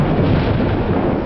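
Thunder rolls through a tropical storm as a steady, loud, broadband rumble, close and continuous, with no voices.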